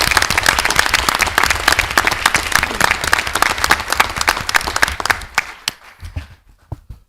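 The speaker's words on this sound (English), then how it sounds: "let's give them a round of applause anyway." Audience applause fills a school board of education meeting room, steady and full for about five seconds before thinning into scattered claps and fading out.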